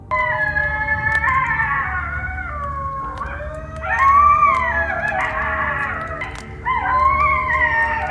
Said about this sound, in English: I guess that was a bunch of coyotes just living their best life.